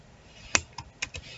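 Several quick keystrokes on a computer keyboard, one sharp click followed by a few lighter taps, close and quiet with no voices.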